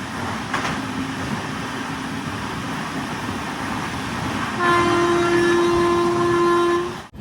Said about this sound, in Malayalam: ട്രെയിൻ ഇപ്പോൾ കണ്ണൂർ റെയിൽവേ സ്റ്റേഷനിലേക്ക് ഇതാ എത്തുകയാണ്